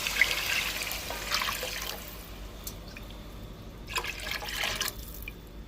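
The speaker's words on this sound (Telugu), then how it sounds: "పులుసు వేసి పెట్టుకున్నానండి. ఇలా ఈ పులుసు వేసేస్తున్నప్పుడు" Tamarind juice is poured into a pan for fish curry, giving a soft, uneven liquid trickle and splash close by with a few brighter bursts and no voices.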